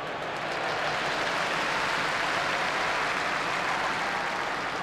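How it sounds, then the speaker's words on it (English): Large stadium crowd at a Murrayfield rugby match, Scotland v Wales in 1999, giving a steady, dense wash of applause and cheering that holds at a constant level throughout, with no clear voices standing out. "That's not worthy of applause"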